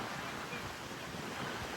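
Cold wind blowing outdoors near Tower Bridge, a steady broadband rush with a constant roar close to the microphone.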